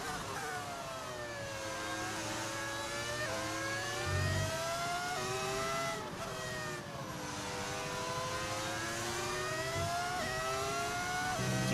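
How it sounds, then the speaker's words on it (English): Old-style race car engines on modern cars in the racing video game F1 25, a sustained high whining engine note rising and falling through gear shifts and revs, loud and unbroken. "Weird to hear the old engines on modern cars."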